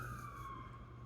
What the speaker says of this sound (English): You have to excuse the siren.